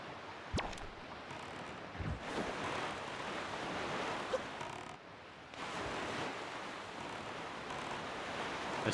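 A sailboat crossing open sea in The Legend of Zelda: The Wind Waker, with a continuous rush of wind and surf that briefly dips midway before swelling again.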